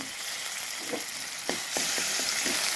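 Chopped garlic fries in hot oil with a loud, dense, close sizzle, and a few stirring knocks of a spoon against the pan come in the second half.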